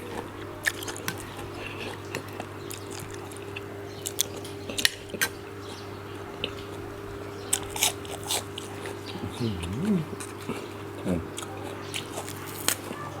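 Someone bites and chews a crunchy, spicy Thai duck feet salad up close, giving sharp irregular crunches and clicks over a quiet background, with a faint voice murmuring briefly partway through.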